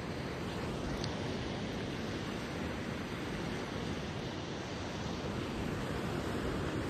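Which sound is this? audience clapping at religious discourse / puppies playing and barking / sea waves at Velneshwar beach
sea waves at Velneshwar beach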